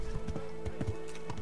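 Horse hooves clip-clop at a steady walking rhythm in the medieval game Kingdom Come: Deliverance, close and moderately loud over a soft hum, with no talk.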